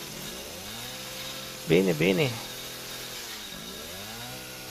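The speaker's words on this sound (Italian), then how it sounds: "Ah, con la motosega, bene" A chainsaw in the video game Resident Evil 7 drones with a rising and falling engine note, surging louder as someone briefly speaks over it before it settles back to a steady buzz.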